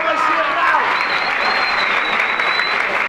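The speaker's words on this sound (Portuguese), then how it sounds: "Cadê as palmas, amigos?" Audience applause at a rap battle, a dense, steady roar of clapping that fills the space loudly and evenly before cutting off abruptly at the end.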